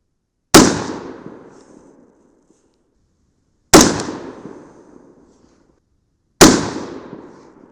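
Three sharp rifle shots at a shooting range, fired with a Vortex scope mounted, each a sudden loud crack fading over a second or so, separated by several seconds of near silence.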